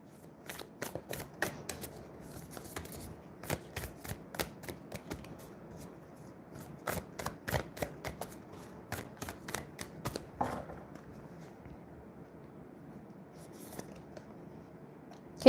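Moonology oracle cards are shuffled close by in rapid bursts of crisp flicks and riffling snaps with short pauses between them, quiet and unaccompanied by talk.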